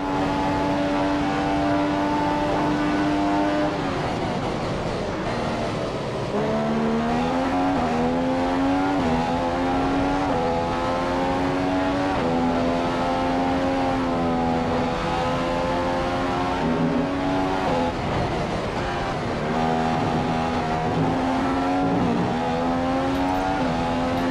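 Race car engine in the F1 2015 racing game at the Russia circuit, a loud, continuous high-pitched whine that climbs through the revs and dips at repeated gear shifts, with no talk.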